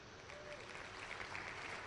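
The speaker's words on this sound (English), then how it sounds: "I'll clap for that one" A livestreamer claps faintly at the desk, a soft, steady patter of hand claps heard from a short distance and low in level.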